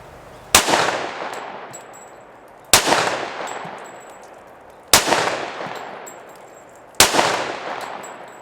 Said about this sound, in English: let's see if I can hit the 60 yard gong with open sights